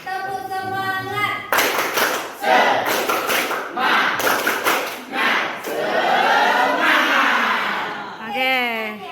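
Vocational high school students in a classroom perform a rhythmic spirit clap, tepuk semangat: bursts of many hands clapping together in a patterned beat, mixed with loud group chanting and shouting, with a voice speaking before and after.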